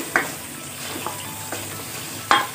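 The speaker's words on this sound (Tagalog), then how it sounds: "habang nagluluto ako ng meatloaf and hotdog sa kabilang kalan, dito naman sa isang kalan, ni-start ko ng magluto ng longganisa" Meatloaf, hotdog and longganisa frying on a stovetop for a Filipino breakfast, a steady sizzle punctuated by a few sharp utensil scrapes and clinks, close and fairly loud with no talk.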